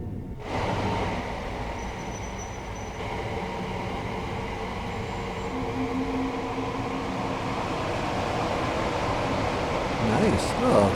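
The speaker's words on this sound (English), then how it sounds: "Here's some down trains." Passing down trains in Train Sim World 3 on the London Victoria to Gatwick Express route, a steady, loud rumble and rolling clatter of rail cars sustained throughout, with a brief hiss near the end.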